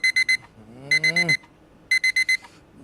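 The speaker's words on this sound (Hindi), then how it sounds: "ये 4 बजे का अलार्म तुमने लगाया है क्या?" An alarm clock rings at 4 a.m. in short bursts of three or four quick electronic beeps, separated by pauses, with a drawn-out voiced groan between the first bursts.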